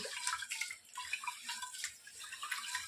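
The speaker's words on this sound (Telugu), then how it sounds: "రేషన్ బియ్యాన్ని బాగా కడిగేసుకోవాలి" Ration rice is washed by hand in water, giving soft, close swishing and light splashing that continues steadily, with no talking.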